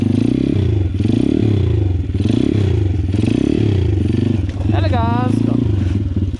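A Loncin 125 motorcycle engine drones loud and close throughout, with a rhythmic pulsing rise and fall of revs as it is ridden, and a voice briefly breaks through near the end.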